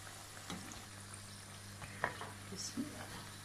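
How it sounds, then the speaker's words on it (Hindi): Vegetable pakoras fry in hot oil, with a faint, steady bubbling sizzle and a few light clinks, distant and low in level. "ये देखें जी, पकोड़े फ्राई हो गए।"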